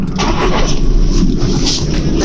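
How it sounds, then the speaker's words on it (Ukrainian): A car engine cranks and catches, settling into a loud, steady low rumble close by with no talking. "Тому для цього ми відразу заводимо автомобіль."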